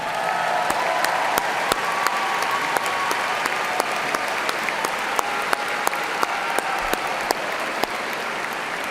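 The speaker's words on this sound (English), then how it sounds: "I think we owe a huge round of applause to Professor Stephen Higginbotham" Applause from a large crowd at the EKU spring commencement evening ceremony in Alumni Coliseum rolls as a dense, loud, sustained wash of clapping across the whole stretch, with a few sharper individual claps standing out.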